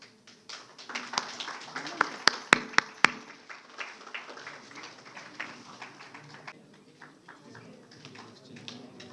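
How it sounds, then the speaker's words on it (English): An audience applauds NCC cadets called to the stage at a 76th NCC Day celebration in Mysore: dense, steady clapping with a few sharp, loud claps standing out early, then easing slightly toward the end. "A round of applause."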